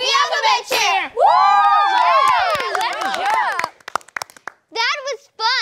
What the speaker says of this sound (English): Thanks for cheering with us.